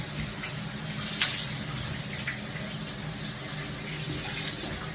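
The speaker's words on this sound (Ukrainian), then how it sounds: "Ось так тепер вся водичка капається. Тепер на плитці." Water runs steadily down the tiles of a shower after glass and tile protection has been applied, a constant close hiss of flowing water throughout with no talk.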